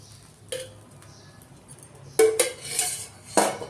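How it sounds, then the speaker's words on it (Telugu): A steel spoon tipping oil into a heated pan while making Andhra-style coriander, mint and tomato chutney, a few distinct metallic clinks and scrapes against the pan at close range, with quiet gaps between and no talking. "వేడెక్కిన తర్వాత కొంచెం అందులో నూనె వేసి"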